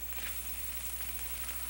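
Soft, tender meatballs sizzle in a frying pan, a steady close crackle and hiss with a low hum underneath and no voices.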